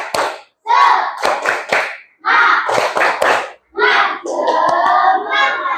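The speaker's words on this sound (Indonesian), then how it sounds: "Tepuk semangat." A class of primary school students performs the tepuk semangat clapping routine, with rhythmic patterned claps in quick groups separated by short pauses, loud and close, with children's voices chanting along between the claps.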